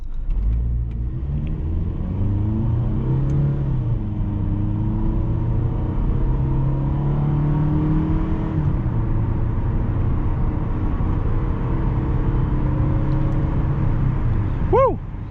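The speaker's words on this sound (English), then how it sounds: "Woo! Quick 0 to 60." A 2009 Toyota Camry LE pulls hard from a standstill to 60, its engine note rising through the gears in a long, steady in-cabin drone, ending with a short squeak near the finish.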